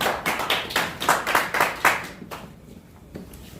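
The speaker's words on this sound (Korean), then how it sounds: "박수 쳐" Audience clapping at a political party campaign office opening, a burst of sharp hand claps in an uneven rhythm that thins out into a few scattered claps within a few seconds.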